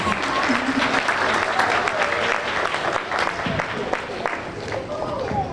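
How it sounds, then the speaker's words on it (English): Sustained audience applause at a West Orange, New Jersey African heritage organization gathering, a dense steady wash of many hands clapping with some crowd voices mixed in throughout. "Clap for yourselves."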